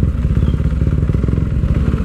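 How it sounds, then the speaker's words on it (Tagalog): A motorcycle engine runs steadily close by, a loud throbbing pulse with a clattery, crackling edge that holds for about two seconds without any talk. "Ganda ng motor nun ah."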